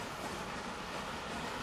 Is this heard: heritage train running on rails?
yes